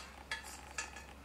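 Milk and eggs stirred together in a bowl for a flan custard: two light clinks of a utensil against the bowl over a soft, steady swish, quiet and close.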